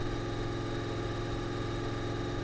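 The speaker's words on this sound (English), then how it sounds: "Engine's reasonably quiet." A Honda DCT motorcycle engine holds a steady, fairly quiet hum in fifth gear while cruising down a straight road, with no change in pitch and no voices.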